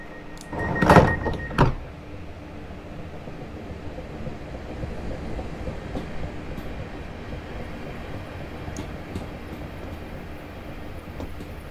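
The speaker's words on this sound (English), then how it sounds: "our train should be able to depart any second now" A passenger train in Train Simulator 2019 on a Littlehampton to Portsmouth service, heard as a steady low rumble and hum of the train idling or starting to pull away, after a brief loud clunk of doors closing near the start.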